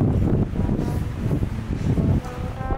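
Wind buffets the microphone on an open summit on the climb of Mount Patuha via Mount Sepuh, a loud, gusty rumble with rustling, steady and close throughout with no voices.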